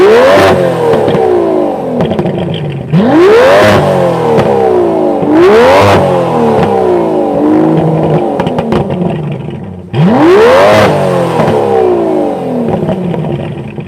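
A 2020 Aston Martin DBS Superleggera Volante engine revs hard in several sharp bursts, each rising steeply then falling away, loud and close with no speech.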